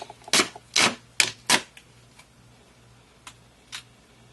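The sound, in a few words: black duct tape being wrapped around a PVC sword hilt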